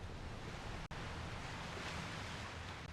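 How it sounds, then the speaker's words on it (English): Steady ocean surf washing at Pebble Beach on a golf course in EA Sports PGA Tour 2023, a soft continuous rush of waves with no voices, faint and even throughout. "listen to the ocean"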